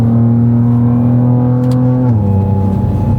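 A BMW M2 CS engine pulls hard at steady high revs on the Nordschleife, droning loud and close with a strong harmonic tone, then its pitch drops sharply as the driver shifts or lifts near the end.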